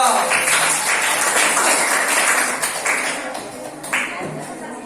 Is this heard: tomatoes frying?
no